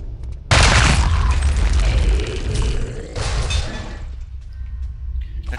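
Loud video game weapon fire in Return to Castle Wolfenstein, in a catacombs level against shielded enemies: a heavy sustained burst of shots that fades, then a second blast, with no talking.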